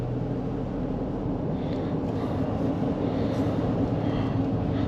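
Steady low engine drone and road rumble inside a 2020 Toyota Highlander L with a 3.5 L V6 and AWD, driving in sport mode, with a continuous even hum and no speech.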